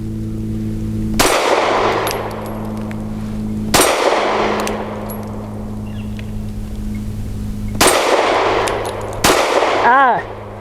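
Four sharp, loud pistol shots from a Mossberg MC2C at an outdoor range, spaced irregularly with ringing decays after each, the last followed by a short metallic ping.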